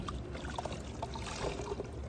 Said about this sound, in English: I'm just gonna wash it off.